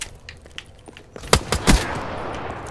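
An M14 rifle in the video game Call of Duty Black Ops 3 fires a few sharp, loud shots in quick succession after quieter clicks and rustles.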